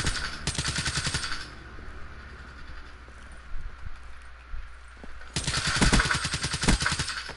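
A video game gun fires in two rapid automatic bursts, one near the start and a longer one near the end, with quieter shuffling and scattered clicks between them.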